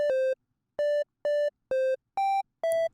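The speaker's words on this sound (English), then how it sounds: "that's what a triangle wave is like" Six short, clean triangle-wave synth notes with no effects in a steady rhythm, each a pure, soft-edged tone with a hollow, retro game-like character, dry and close with silence between.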